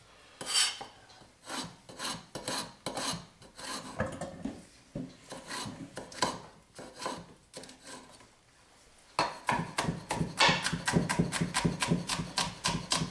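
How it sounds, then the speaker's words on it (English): A kitchen knife is sharpened on a sharpening steel with rapid, rhythmic metallic swipes close by, a slower run of strokes first, a pause, then a quicker, steadier burst. "I'm just going to hit it with the sharpening steel."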